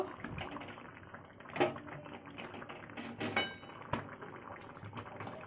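A spoon scrapes and clinks against a pot while potato-pea curry is served, giving a few soft metallic knocks and scrapes at close range over a quiet kitchen background.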